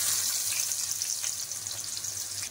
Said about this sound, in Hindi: प्याज को गोल्डन होने तक फ्राई करते हैं